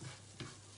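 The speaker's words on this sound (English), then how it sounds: "we are frying the rice" Rice for paella fries and is stirred in a pan with green peppers and garlic, giving a faint sizzle broken by a few quick scraping stirs, with no talking.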